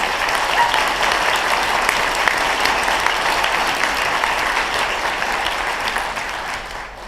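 Sustained applause from a luncheon audience honouring three women, a dense, steady wash of clapping that holds strong throughout and thins slightly at the very end, with no voices over it.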